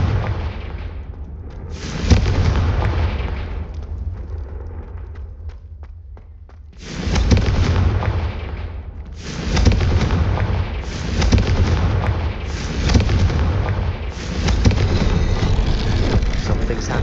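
Repeated Confringo fire-spell explosions in Hogwarts Legacy give loud, dense bursts with rumbling tails, coming in waves one after another with short gaps between them.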